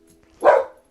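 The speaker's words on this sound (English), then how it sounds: "Excuse my dog." Dobby the dog gives one short, sharp bark nearby that stands out loud against an otherwise quiet room.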